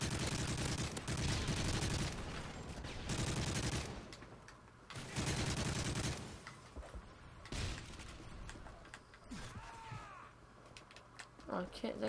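Explosions and rapid gunfire from Predator missile strikes in a free-for-all first-person shooter match, loud bursts and crackling volleys in dense clusters, with a commentator talking over the action.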